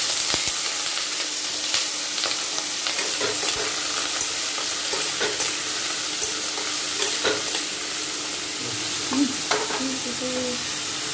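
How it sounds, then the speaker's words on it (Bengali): Freshly cut potatoes hit hot oil with frying ginger in a pan, giving a steady, close sizzle with scattered stirring scrapes and clicks throughout and no voices. "আদাটা একটু ভাজা ভাজা হয়ে যাওয়ার পর আলুগুলো খোলা সদ্য কেটে রেখেছি, সেগুলো দিয়ে দেবো।"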